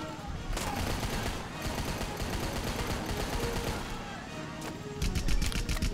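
Gun turrets fire in Rambo The Video Game, a dense, steady barrage of rapid shots lasting throughout, with a sharper, louder burst near the end.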